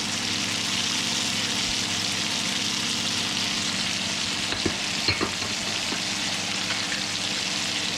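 Potatoes frying in a pan for venison hash, a steady close sizzle running throughout with a few brief stirring knocks and scrapes near the middle, no talking.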